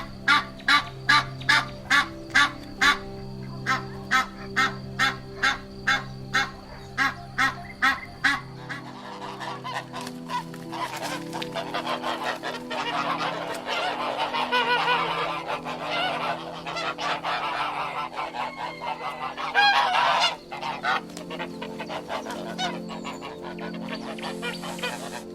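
A goose honks in a rapid series of loud, close calls, then gives way to a denser, continuous chorus of honking and clamor from what sounds like several birds.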